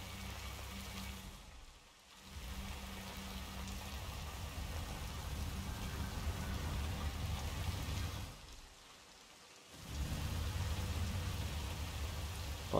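Steady rainfall in Hitman 3, a soft, constant hiss of rain on surfaces with a low rumble beneath, briefly thinning out twice before resuming, distant and quiet.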